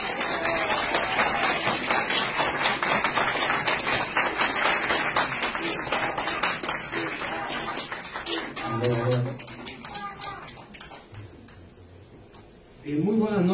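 Audience applause welcoming a speaker at an indoor presentation, a loud dense wash of clapping that gradually thins out and dies away near the end as a voice begins to speak.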